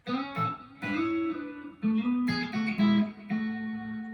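Clean electric guitar tone through an AM4 amp modeler on one of its cleaner settings, a series of picked notes and chords played close and full, with no voices.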